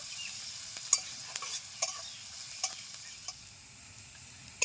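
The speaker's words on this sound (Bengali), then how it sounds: "হলুদ গুঁড়ো, 1 মিনিট মতো নেড়ে নেব।" Spatula stirring and light frying in a pan with salt and turmeric powder added to onions for a bean (sim) mash, soft scraping clicks at intervals over a faint steady sizzle, close and quiet, no talking.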